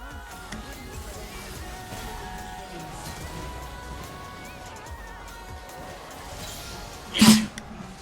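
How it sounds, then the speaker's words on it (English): A single sharp sneeze bursts loudly and close into a microphone near the end, standing out above quiet background noise during a live stream. "I just sneezed into the mic without intending to"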